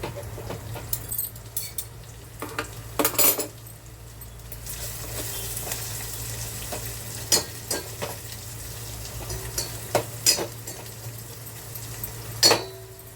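Taro pieces fry quietly in a pan, a soft steady sizzle punctuated by sharp clinks and scrapes of a utensil against the metal, close by, with no voices.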